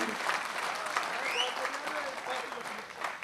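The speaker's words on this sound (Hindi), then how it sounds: "एक बार जोरदार तालियां बजा दीजिए सबके लिए।" An audience claps at a Hindi kavi sammelan poetry gathering, a steady, fairly loud burst of applause with a voice speaking over it.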